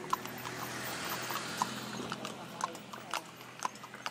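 Horse hooves clip-clop steadily at a walking pace on a horseback ride in Baguio, the regular strikes fairly close over a broad outdoor hiss of wind and background noise.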